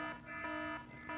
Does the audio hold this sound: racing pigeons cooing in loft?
no